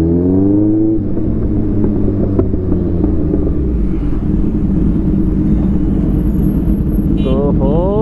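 A group of superbikes riding together through traffic for a wedding procession, engines rumbling steadily up close with rising revs at the start and end, while a rider talks over the engine noise.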